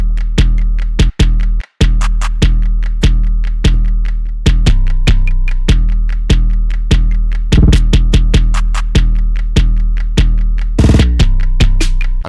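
Hip-hop UK hoodtrap beat with two layered 808 bass lines, one duplicated and resonated on a separate mixer track, booming steadily under crisp hi-hats and snappy percussion, loud and continuous with a brief dropout near the start.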